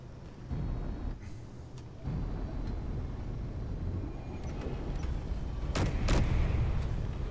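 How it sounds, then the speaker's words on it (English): Heavy booming cannon blasts in the video game Space Engineers rumble under a constant engine drone, with a couple of sharp loud cracks near the end. "There's our cannons going."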